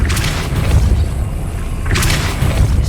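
Depulso spell cast in Hogwarts Legacy, a forceful whooshing blast with a booming low thump, followed by a second burst a moment later, loud over steady game ambience.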